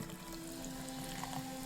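Cherry Bubbly carbonated water fizzes in an opened can, a soft, steady hiss of bursting bubbles heard close and alone against a faint background hum.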